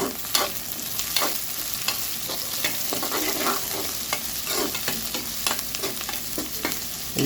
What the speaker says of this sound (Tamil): வெங்காயம் கொஞ்சம் வதங்கிட்டு பூண்டு, பச்சை மிளகா சேர்த்துருக்காங்க. நல்லா கிண்டி விட்ருக்காங்க.